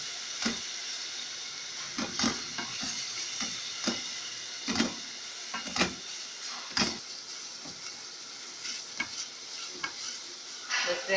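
Onion-tomato masala with ginger-garlic paste and dry spices sizzles softly in a pan while a spoon stirs it, giving scraping, knocking strokes at an irregular pace over a low, steady fry.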